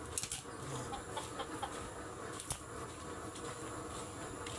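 Backyard chickens cluck steadily against a busy, noisy outdoor background, with a few sharper calls standing out near the start.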